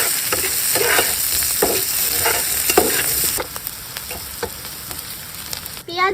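Chopped onion, chilli and garlic fry in hot oil, a loud, dense crackling sizzle with spatula scrapes that drops to a quieter hiss partway through, followed by a brief clatter at the end.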